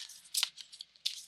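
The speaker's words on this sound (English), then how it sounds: "I'm going to go ahead and start shuffling these cards while I'm talking" A deck of tarot cards is shuffled in two quick riffling bursts, close and crisp, with soft card rustling between them.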